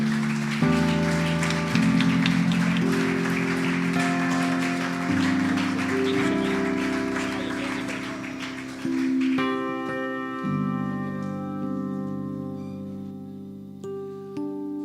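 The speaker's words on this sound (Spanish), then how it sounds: "Dale un fuerte aplauso a Jesucristo." A crowd claps loudly over sustained keyboard chords, then the applause fades out and the music carries on alone.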